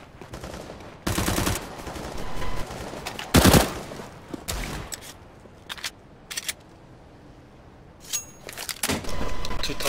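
Rapid bursts of automatic gunfire ring out in Counter-Strike on the Dust 2 map, loud close volleys separated by short pauses, with a few fainter single shots between them.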